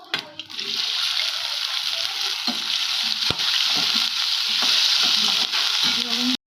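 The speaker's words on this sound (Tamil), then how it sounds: "இப்போ நம்ம அந்த கடாயில் எண்ணெய் ஊற்றிட்டு வெண்டைக்காய் ஃப்ரை பண்ணிடலாம்." Loud, steady sizzling of okra frying in hot oil in a kadai, with occasional stirring scrapes and clinks against the pan.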